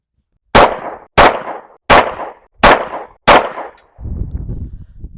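Five sharp pistol shots from a Rost Martin RM1C firing Norma 108 grain monolithic hollow point rounds, evenly spaced and loud, each with a short ringing decay, followed by rumbling outdoor range noise.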